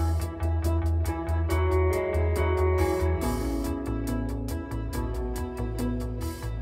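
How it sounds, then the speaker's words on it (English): A pre-chorus lead part from a rock song recorded in Ableton Live: a lead line sits over a full band mix with steady, driving drum hits, loud and continuous with no voices. "I've even written a pre-chorus lead part which sounds like this."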